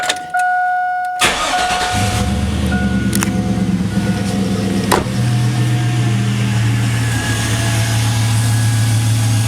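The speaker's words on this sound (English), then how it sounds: "all we have now to do is start it and see what she sounds like" A Chevy 5.3 V8 fitted with a Delta Force intake cranks and fires up, then settles into a loud, steady idle with a deep rumble close by, with a brief revving surge partway through.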